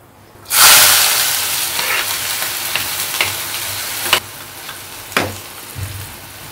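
Chopped onion drops into hot oil with bay leaf, cloves, cinnamon, pepper and black cardamom, bursting into a loud close sizzle that settles into steady frying with a few stirring clacks.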